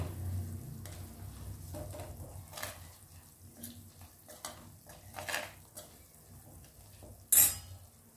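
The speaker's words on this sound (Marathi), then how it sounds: "आणि 1 चम्मच तिखट घालूया आणि याला परतून घेऊया।" Chili powder sautéing in a pan for an Indian bhaji, a quiet sizzle with soft stirring scrapes and a few utensil clinks, ending in one sharp metallic tap.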